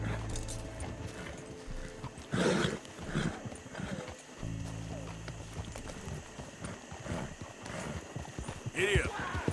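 Horse hooves clip-clop in a steady gait while riding in Red Dead Redemption 2, mixed with game ambience and some louder bursts, a voice speaking briefly over it.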